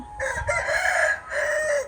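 An aseel rooster crows loudly and close, one drawn-out call rising and falling over about two seconds, with no voices.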